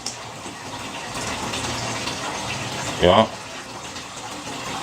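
A small 5 volt water pump runs steadily, pushing water and bubbles through a hose with a continuous gushing burble, a brief louder splash midway, and a voice speaking over it.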